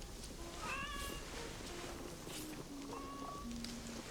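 Cat meowing in the video game Assassin's Creed Shadows, a few short faint meows close together over quiet ambient game sound, with no speech over them.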